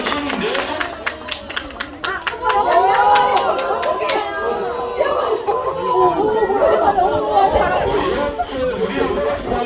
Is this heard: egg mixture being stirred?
no